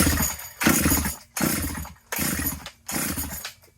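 A G888 chainsaw engine set rich on the carburetor and choked, running in four loud bursts that each cut out with a sputtering, popping spit-back between them.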